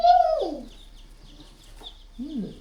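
Chicks in a brooder give a couple of short, fairly close peeping calls separated by a quiet gap, with faint rustling between them.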